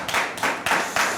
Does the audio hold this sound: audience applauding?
yes